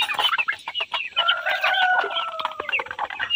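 A flock of native country chickens, mostly roosters with a single hen, clucks busily and crows in overlapping bursts, close and fairly loud, with no talking.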